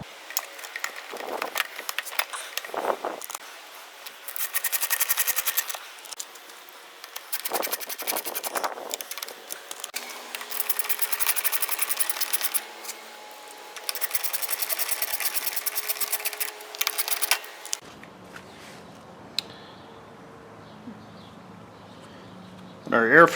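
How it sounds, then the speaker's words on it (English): Air box cover being bolted onto a newer Briggs engine with a plastic carburetor: repeated bursts of high, whirring tool noise with pauses between, then a quieter stretch and a clatter at the end. "We'll bolt this on."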